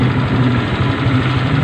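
A Honda Vario 125/150 scooter with a radiator coolant overheating fault idles close by, giving a loud, even, pulsing engine note throughout.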